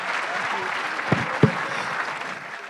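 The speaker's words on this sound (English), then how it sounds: "A round of applause for Abhijit Banerjee." Audience applause closing a conversation session on poverty economics, a broad crowd clapping sound carried under a little background noise, with a couple of sharp low thumps partway through.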